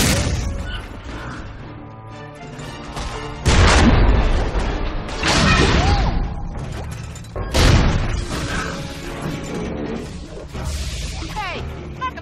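Cannons fire in the Epic Mickey 2 video game, booming blasts and crashing impacts striking a mechanical creation, several heavy bursts spaced out over clanking machinery and game music.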